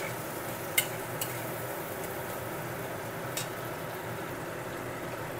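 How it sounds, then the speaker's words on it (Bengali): Ridge gourd fries with spices in a pan for a Bengali jhinge recipe, making a soft, steady low sizzle with a few sharp clinks of a spatula against the pan. "ঝিঙেটাও মশলার সাথে একটু ভেজে নেব।"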